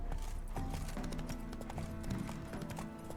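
Horse hooves galloping in The Witcher 3 video game, a quick rhythmic clip-clop of hoofbeats close by at a fairly low level, with a faint game music tone underneath.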